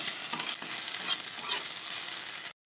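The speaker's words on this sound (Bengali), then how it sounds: "সয়াবিনটা ভেজে নিচ্ছি, লবণ দিয়ে অল্প তেল দিয়ে ভেজেছি" Soybean chunks fry in a small amount of oil with salt, giving a steady, close hiss and crackle with faint stirring scrapes, broken by a brief pause near the end.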